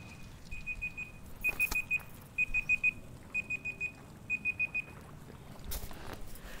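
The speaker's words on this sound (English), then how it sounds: "that's my annoying alarm going off" A phone alarm going off: five quick bursts of short, bright, evenly spaced beeps repeat in a steady rhythm. It is fairly clear and close over a soft background hiss, with no talking.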